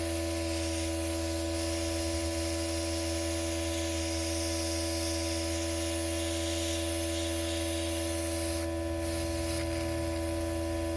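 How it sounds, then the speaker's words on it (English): An airbrush sprays alcohol ink onto paper with a steady, close hiss that runs unbroken for the whole stretch, over a constant low hum from the compressor. "spray it through onto a piece of paper and see if that clears it out"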